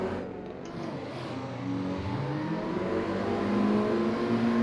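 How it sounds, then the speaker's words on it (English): A Mazda MX-5 engine in a sim racing drifting game revs steadily and climbs in pitch, loud and continuous, with no talking over it. "listen to Jace's car"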